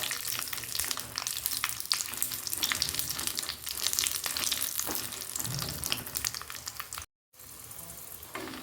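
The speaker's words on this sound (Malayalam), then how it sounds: "വെളിച്ചെണ്ണ ഗ്യാസ് കൊളുത്തിട്ട് അടുപ്പത്ത് വെച്ചിട്ടുണ്ട് അതിലേക്ക് മുളകിട്ട് കൊടുക്കാം" Chilies fry in hot coconut oil in a pan on a gas stove, a dense, crackling sizzle with scattered pops, fairly close and continuous, with a brief dropout near the end and no voices.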